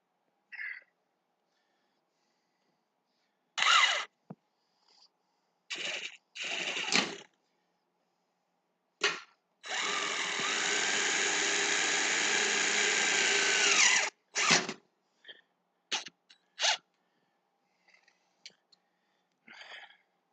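A power drill boring a series of holes into a wall, heard close as several short bursts followed by one long sustained drilling run and a few more brief spurts, with quiet pauses between.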